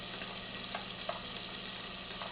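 Chopped ginger and garlic sizzle steadily in a hot oiled pan for Punjabi chole, a close, even frying hiss with faint stirring ticks and no speech.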